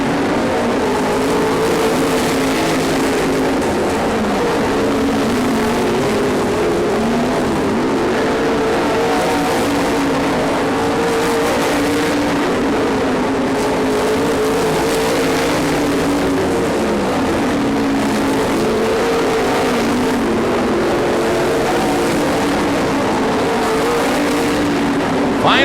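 Race cars speed around a track in the final lap, their engines rising and fading as they pass, with a continuous roar that stays fairly loud and steady throughout.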